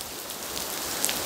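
Heavy rain pours steadily on surfaces outdoors, a dense, even hiss that holds at a constant level throughout with no voices.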